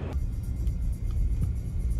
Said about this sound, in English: Adam's dusting the track down with the Bateman because it's basically been dusty